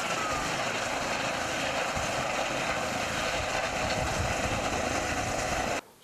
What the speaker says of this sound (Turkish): Olay yerine gelen hava ambulansı vakanın aciliyetinin bulunması nedeniyle karayoluna iniş yaptı.